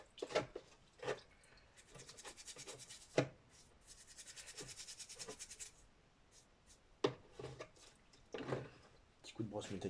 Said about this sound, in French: Petit coup de brosse métallique aussi.